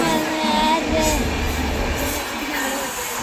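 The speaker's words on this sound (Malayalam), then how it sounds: "ട്രെയിൻ വരുന്നു." A train passes close by, a steady low rumble of wheels and carriages with some higher rail noise running loud throughout.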